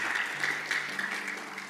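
A congregation applauds during a church service, giving a steady wash of clapping with no pause through the short stretch.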